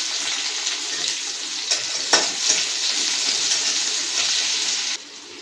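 Chopped onion fries in hot oil in a wok with dry red chilli and five-spice tempering, giving a loud, continuous hiss with a few stirring knocks before the sizzle abruptly softens.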